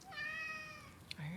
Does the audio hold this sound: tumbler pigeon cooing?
no